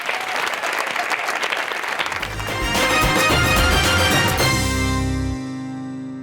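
Studio audience of a TV talk show applauding loudly and continuously, with music swelling underneath near the end.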